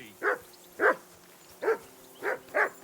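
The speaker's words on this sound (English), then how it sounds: "Would you stop barking now?" A dog barks in Kingdom Come: Deliverance 2, five separate gruff woofs spaced unevenly over a few seconds, close and clear over a quiet background with no talking.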